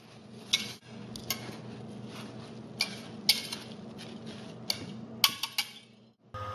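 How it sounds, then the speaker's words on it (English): A whisk stirring dry ingredients and old-fashioned rolled oats in a bowl, giving a soft continuous rustle punctuated by several sharp metallic clinks against the bowl's side, close and fairly quiet. "you're just going to whisk that until everything is nicely mixed"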